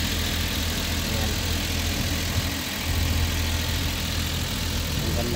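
Mazda Scrum turbo 4x2 mini van engine idling, a dense steady mechanical hum with low throb heard close up, loud and continuous.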